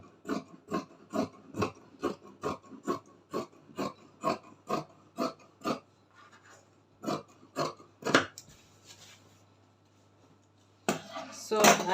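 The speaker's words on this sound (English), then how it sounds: "So I just cut." Scissors snip through fabric while cutting pieces for a ruffled shift gown, about fifteen close, even, rhythmic cuts followed by a pause, a few slower snips and a louder rustle of cloth at the end.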